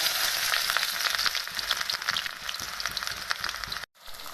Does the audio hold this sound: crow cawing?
no